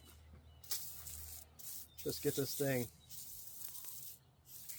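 A spray bottle hisses cleaner onto a car supercharger in a few short, close bursts, while someone talks briefly over the spraying.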